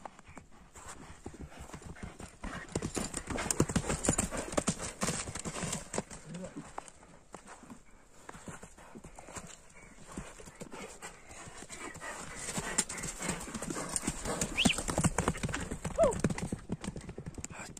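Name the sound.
horse hooves clip-clopping while being ridden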